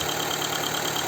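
A car engine idles steadily, an even mechanical rumble close by with no voices over it. The car has timing belt concerns and is being treated with an engine additive.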